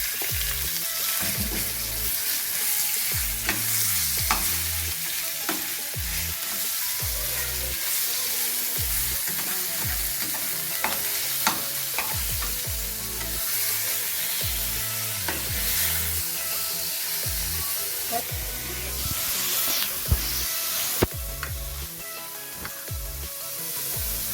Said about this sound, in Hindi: और उसके बाद हम इसको इसमें फ्राई कर लेंगे।